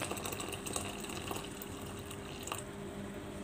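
Boiled water pours steadily over dried black fungus mushrooms in a container, with a continuous splashing hiss and faint drips, close by, with no talking.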